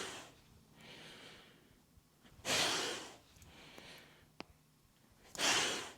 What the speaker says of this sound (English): Forceful exhale all the way down.